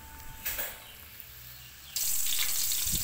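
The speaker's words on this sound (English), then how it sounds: "And then fry into the preheated pan with oil." Chicken dropped into a preheated pan of oil, bursting into a loud, continuous sizzle after a brief clatter and quieter hiss at the start.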